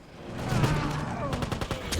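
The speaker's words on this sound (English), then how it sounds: "The weapons in this game sound fantastic, and really feel powerful." Weapon fire from the video game Wolfenstein (2009) on Xbox 360 comes as loud, dense bursts of rapid shots, rising and then crackling in quick clusters.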